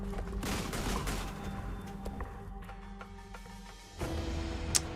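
Grenades from the Grenade Hollow alchemy-explosives build in Guild Wars 2 go off in a rapid volley of popping blasts and crackle, then a fresh burst near the end over ongoing game noise.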